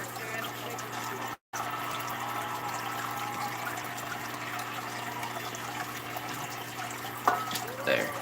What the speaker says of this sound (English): I'm just gonna suck some water up from this little mini pond right here